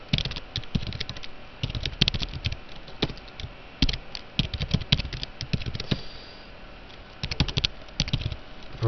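C++ code is being typed on a computer keyboard in rapid, uneven bursts of close, crisp key clicks, with brief pauses between runs of keystrokes.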